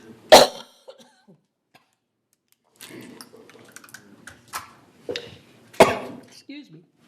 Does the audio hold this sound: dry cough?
yes